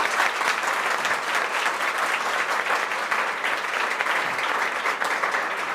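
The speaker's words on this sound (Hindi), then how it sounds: "तो सर के लिए सबसे पहले एक ताली जोरदार होना चाहिए।" An audience claps loudly and steadily for a teacher from Janta Bazaar, a dense, continuous applause with no break that fills the whole stretch.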